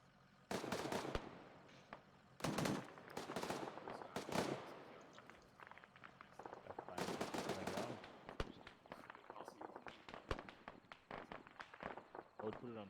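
Gunfire in the ArmA 3 military shooter, with loud crackling bursts and rapid shots in clusters at the start and around the middle, followed by a denser, steadier stretch of firing. Voices talk over the shooting.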